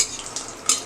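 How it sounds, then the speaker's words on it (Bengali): Lentil vadi fried in a pan for potato greens curry gives a short, steady sizzle with a couple of sharper scrapes of a utensil, brief and close. "আলু শাকের বড়িটা আগে ভেজে নিচ্ছি আমি।"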